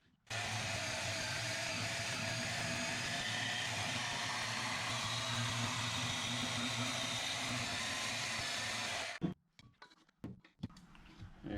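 A power cutting tool slices through steel exhaust pipe for a DIY 2-into-1 exhaust build, a steady, loud grinding whine lasting about nine seconds before it cuts off and a few clanks and handling noises follow.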